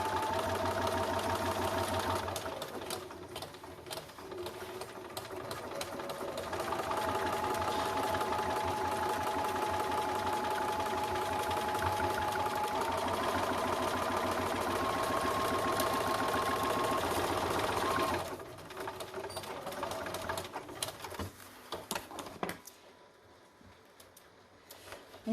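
A sewing machine stitches a concealed carry belly band in long steady runs of rapid mechanical chatter, with a pause in the middle and short stop-start bursts toward the end, close and loud with no voices.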